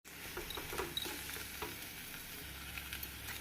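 Soft scraping and stirring of potatoes in a frying pan over a quiet, steady sizzle of frying, with a few light utensil clinks.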